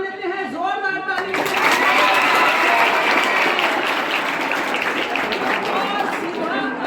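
Loud, sustained applause from a school audience at a science and maths club quiz competition, a dense wash of clapping that swells after a brief spoken lead-in and carries steadily to the end.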